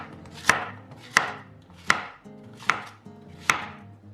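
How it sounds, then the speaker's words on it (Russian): A knife chops zucchini into pieces on a board, five crisp, evenly spaced cuts sounding close and clear with no talk. "Я сразу же цукини режу и забрасываю в форму."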